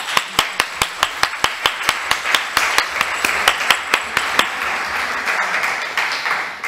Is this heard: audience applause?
yes